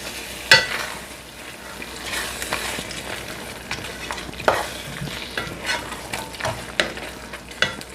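Cooked meat being stirred into a pot of Nigerian egusi soup, a steady scraping and squelching of a spoon with occasional sharper clanks against the pot and a soft sizzle underneath, close and alone.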